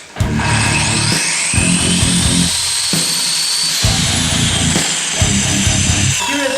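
Makita GA9050R 9-inch angle grinder with slow start, powering up as a loud whine rises steadily in pitch and settles into a steady high spin, heard close with nobody talking.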